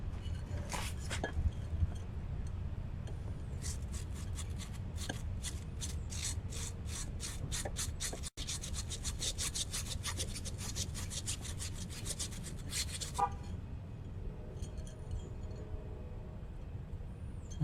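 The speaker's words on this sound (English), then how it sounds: "We'll just kind of scrape a little bit and see what happens." Rust is scraped off a brake caliper bracket in quick, rhythmic rasping strokes, near and steady for most of the clip, with a brief pause midway and the strokes stopping near the end.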